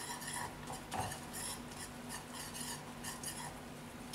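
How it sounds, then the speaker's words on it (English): Pecans are stirred into a melted brown sugar and butter caramel in a pot, giving soft scraping and clinking of a spoon against metal with a faint low sizzle underneath. "go ahead and add your pecans"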